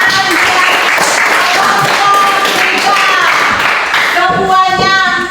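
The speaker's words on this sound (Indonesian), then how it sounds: "tepuk tangan." Children clap together in a school activity, a dense, loud burst of applause that runs steadily and then thins out near the end.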